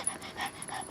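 A dog panting close by, quick rhythmic breaths in a brief burst.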